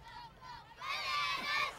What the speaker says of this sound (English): There was a ton of extra chanting, cheering, clapping, dancing, and even a little bit of chirping from the crowd